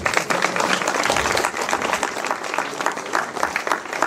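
An inauguration audience at the Maison des Berges de Seine claps in a sustained, fairly loud round of applause with scattered individual claps standing out.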